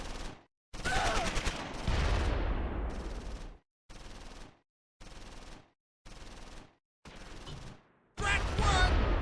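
Bursts of machine gun fire in the WWII video game Close Combat 4, Battle of the Bulge, rattle out in several separate volleys of varying length, separated by short silences, with the last burst loud and sharp.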